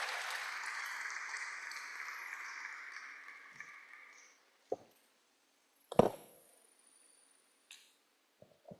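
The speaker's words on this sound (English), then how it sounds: "Please, a round of applause for the Vice-Chancellor as he steps out." An audience at a university inaugural lecture gives the Vice-Chancellor a round of applause, a soft distant patter of clapping that fades out after a few seconds, followed by a few isolated knocks and thumps.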